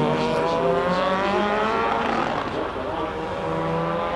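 An Audi TT 1.8 race car at a hillclimb, its engine a steady loud roar with a rising tone as it accelerates hard, heard at middle distance with continuous crowd or commentary noise underneath.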